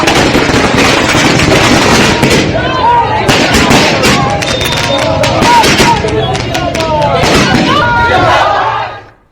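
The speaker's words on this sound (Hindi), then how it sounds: "सम्राट पहुंचे तो फिर पटाखे जलने शुरू हुए।" Firecrackers crackle and pop without a break at a political celebration in Bihar, a dense, loud barrage of rapid bursts with crowd noise and voices mixed underneath, which cuts off abruptly at the end.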